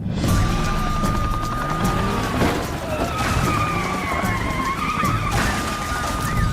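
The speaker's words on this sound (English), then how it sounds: "The pursuit ended with a tactical maneuver that sent his Mustang crashing out." A Mustang skids hard during a police pursuit maneuver, tires squealing in long wavering tones over a loud roaring engine, with bangs and scraping as the car is forced out, close and continuous.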